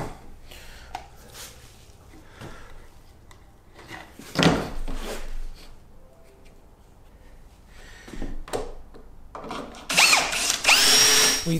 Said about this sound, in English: We then drill holes in the top of the door using the drilling guide to the marks that we've just made